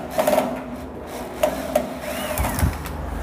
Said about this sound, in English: Grab an electric screwdriver and remove the screws on this side.